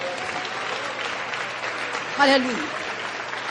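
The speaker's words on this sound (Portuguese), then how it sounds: "Dá uma salva de palmas para Jesus." A congregation at a sermon applauds for Jesus, a steady wash of clapping under a voice calling out in praise.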